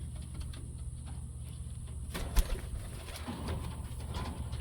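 Bessemer homing pigeons cooing softly, low murmuring calls close by under a steady hum of ambient noise, with a brief thud midway.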